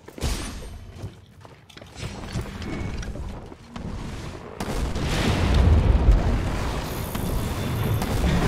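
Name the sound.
bomb explosion in the video game Monster Hunter World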